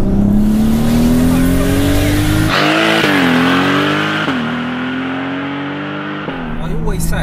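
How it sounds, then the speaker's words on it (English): A 535 BHP turbocharged, all-wheel-drive VW Golf R32 accelerates hard. Its loud engine note climbs in pitch, then drops sharply with each of several quick gear changes, and a voice talks over it. "this car, because of its engine sound, of course, it's going to bring a lot of drama anyway"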